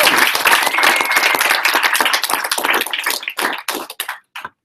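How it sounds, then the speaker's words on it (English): A university launch event audience breaks into loud, close applause that thins out into scattered individual claps before stopping. "Big round of applause for"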